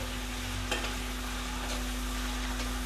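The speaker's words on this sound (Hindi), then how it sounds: "चिकन को हमने अच्छी तरह पका लेना है।" Chicken frying in a pan for a Pakistani-style spicy chicken pasta, giving a steady low sizzle with a couple of faint stirring scrapes, close and even throughout, with no talking.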